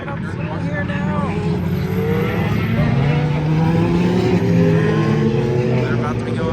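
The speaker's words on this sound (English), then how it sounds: "the prototypes coming up through here now" Prototype race cars roll past at the Rolex 24 at Daytona, a steady layered engine drone with rising and falling tones that holds at an even, loud level throughout, while people talk over it.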